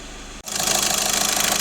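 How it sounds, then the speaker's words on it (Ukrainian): A Skoda Octavia 1.6 TDI diesel engine runs steadily at idle after a brief dip, a loud, even mechanical drone with a rapid clatter filling the short stretch. "Так, ось наш двигун."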